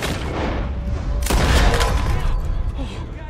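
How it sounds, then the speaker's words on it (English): Gunfire in Red Dead Redemption 2 as chains are shot loose: a loud burst of shots strikes about a third of the way in and rings on over steady game noise and voices, which remain audible throughout. "Shoot the chains!"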